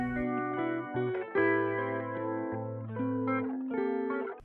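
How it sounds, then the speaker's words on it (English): Guitar melody from a song: a clean, chorus-and-echo-washed line of ringing notes over sustained low tones, fairly soft and dreamy, flowing without a break. "we have a new guitar melody coming in"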